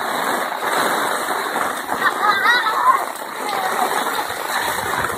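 Heavy rain pouring onto a town-centre street in Cacimba de Dentro, Paraíba, a dense, steady hiss of splashing water and runoff from a roof spout, close and continuous.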